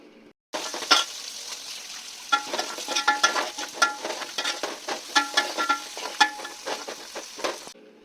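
Onions, curry leaves and salt stirred as they fry in a pan for a fish curry, with a continuous close sizzle broken by frequent scraping clicks of the spoon against the pan.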